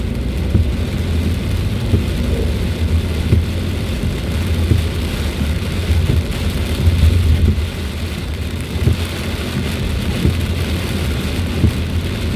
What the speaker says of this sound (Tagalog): parang galit na galit yung ulan